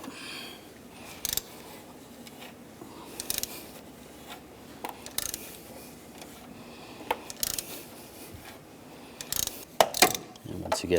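A 32mm socket and ratchet loosen the oil filter housing on a 2005-2010 Chevy Cobalt, producing faint, close scattered clicks and metallic taps with quiet pauses between them, louder near the end.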